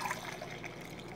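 Black Rifle Coffee CAF brew is poured into a Yeti cup, a brief close liquid trickle and splash running steadily without any talking.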